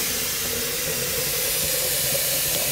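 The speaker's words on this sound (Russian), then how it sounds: "Это звук того, как я набирал воду в чайник." Water running from a tap into a kettle, a steady broadband hiss and rush that holds evenly for a few seconds, close and fairly loud with no talking.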